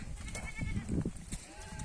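Goats bleating on a farm, a couple of short, fairly faint bleats over soft background noise.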